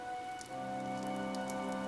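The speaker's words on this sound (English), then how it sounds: "The rain is really coming down now." Heavy rain falls in the Fire Emblem: Three Houses video game, a constant, even hiss of downpour layered beneath sustained musical tones, steady with no breaks and no talking.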